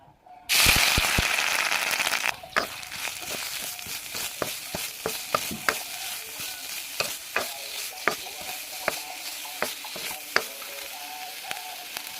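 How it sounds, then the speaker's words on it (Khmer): Spices sizzle and crackle loudly as they fry in hot fat in a pan for Cambodian cooking, a dense burst at first, then steady frying broken by sharp regular clacks of stirring, with no talking. "យើងដាក់ខ្លាញ់ឆាគ្រឿងយើង"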